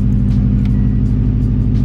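Subaru Impreza with a boxer engine and unequal length headers idling close by, a steady loud low burbling rumble with a slightly uneven pulsing throb and no other sounds.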